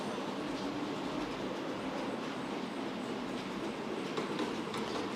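A model railway train runs past on a layout, giving a steady, continuous rolling rumble with a faint rail clatter, fairly close and with no voices over it.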